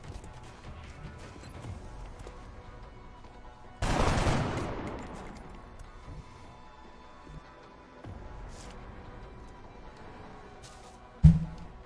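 Gunfire in XCOM: Enemy Within: a loud burst of weapon fire that dies away slowly, a softer hit later, then a sharp crack near the end over a quiet game background.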